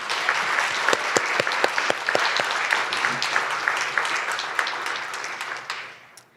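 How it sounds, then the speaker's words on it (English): A seated audience gives a round of applause for a panel of legal professionals, a full burst of steady clapping with sharp individual claps standing out, fading away at the end. "Please give all of our panelists a round of applause."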